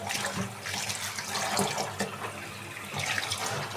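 Water runs steadily from a tap while vegetable greens are washed, with splashing and soft handling noises throughout.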